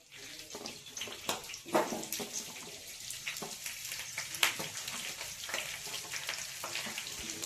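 Spinach, green chilies, mint, fenugreek and coriander leaves frying in a pan for donne biryani, giving a steady close sizzle with watery hiss and scattered clicks of stirring throughout, no voices.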